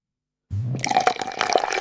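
Water pours steadily into a container after a short silence, a continuous splashing, gurgling fill with small drips and bubbling, close and fairly loud, with no voices.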